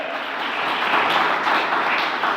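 A congregation at a Christmas service and semester-closing worship applauds, producing a steady wash of clapping across the hall that swells slightly midway, with no voice standing out.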